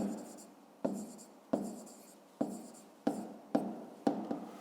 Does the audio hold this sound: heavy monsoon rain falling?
no